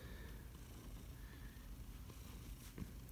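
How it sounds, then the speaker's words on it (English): A pet cat purring softly up close, a low continuous rumbling flutter that stays steady throughout, faint and without any speech. "You're still my favorite cat."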